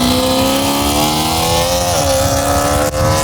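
A 4.4 liter cross-plane V8 fitted with a titanium muffler in an engine-swapped street car revs loudly and close up, its pitch climbing smoothly, dipping briefly, then rising again in a continuous roar.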